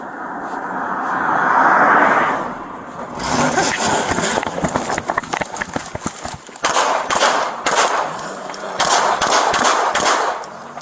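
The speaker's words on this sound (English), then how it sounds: "Shots fired." A police incident plays out as a loud, dense stretch of gunfire, rapid sharp cracks fired in clusters after a rising rumble, close and harsh, with voices partly buried under the shots.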